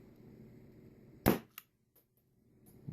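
A single sharp snap from an HK USP spring-powered airsoft pistol firing over a chronograph, followed by a fainter click and small rattles in an otherwise quiet room.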